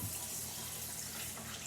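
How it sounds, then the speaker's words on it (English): Tap water running over a cutting board while prepping a turkey, a steady close splashing hiss of faucet flow with no talking. "Now I'm going to rinse my cutting board off again."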